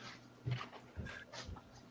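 A dog makes short soft whimpers and breathy panting sounds close by, three or four quick bursts in a quiet setting.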